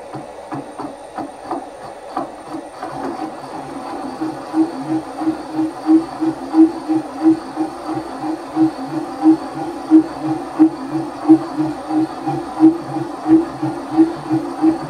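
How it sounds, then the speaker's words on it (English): A lathe boring bar machining out a weld on a powered lathe slotter build, with a steady rhythmic chatter of vibration pulsing roughly twice a second, growing stronger partway through and continuing alone without talk. "I'm sort of machining out that weld as well, which isn't helping matters."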